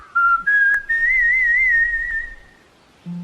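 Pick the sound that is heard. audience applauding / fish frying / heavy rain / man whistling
man whistling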